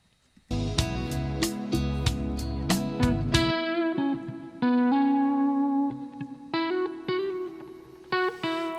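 An electric guitar played through a small amp with distortion and a touch of reverb rings out in a strummed chord, then single sustained notes that bloom and fade with a gritty, echoing tail.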